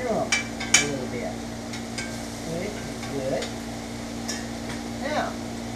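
Onions frying in fat in a skillet, a soft steady sizzle with a faint hum beneath, broken by a few sharp clinks and scrapes of a utensil against the pan.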